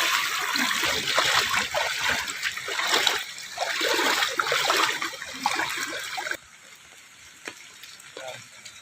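Kerala floodwater rushes steadily with splashing and churning, loud for several seconds before dropping to a quieter trickle near the end.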